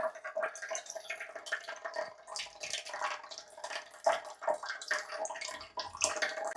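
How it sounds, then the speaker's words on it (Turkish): Water running from a TDS 0 purified-water tap to flush out standing water before filling a test tube for an aquarium ICP test, a steady close splashing flow with drips, alone with no talk. "İlk öncelikle buradan birazcık suyu boşaltıyorsunuz."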